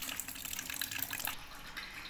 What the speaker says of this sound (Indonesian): ini air mengalir cukup banyak, ini mesti ditampung dulu supaya diangkat ke bawah nanti gak tumpah ya